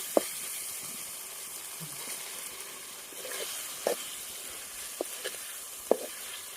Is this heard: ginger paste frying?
yes